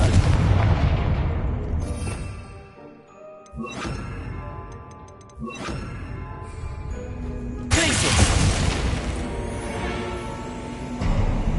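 Confringo spell detonation in the Hogwarts Legacy video game: several loud booming bursts in sequence, the biggest near the end with a bright crackling tail, layered over game music and effects.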